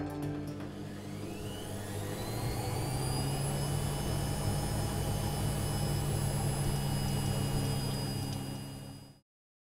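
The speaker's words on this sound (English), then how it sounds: "A washing machine while it's spin drying." A washing machine spin-drying on the other side of a wall: a loud whine climbs in pitch and then holds over a heavy hum and rumble before cutting off abruptly at the end.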